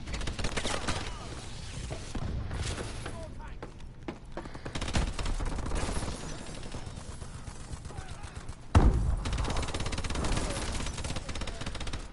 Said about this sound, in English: Enemy missile strike.